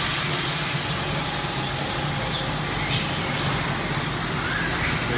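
Steady, continuous hiss of car wash nozzles spraying foam, filling the space, constant and fairly loud with a low mechanical hum underneath and no pauses.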